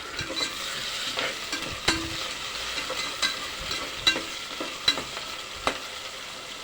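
Onions, fenugreek leaves and curry leaves fry in hot oil, a low steady sizzle broken by regular spoon scrapes and taps against the pan, heard up close without speech.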